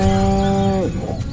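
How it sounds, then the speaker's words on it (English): A cow in Destroy All Humans lets out a single loud, sustained moo that holds steady and then drops off sharply near the end. "Again with the moo? I think these lactating bovoids are trying to fool us."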